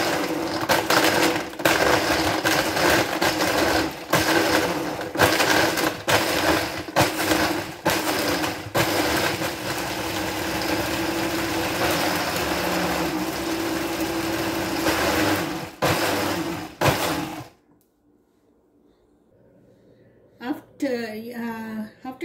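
Blender crushing ice for a strawberry banana smoothie, a loud, continuous grinding whir with rattling chunks for about seventeen seconds, then stopping abruptly, followed by a brief voice.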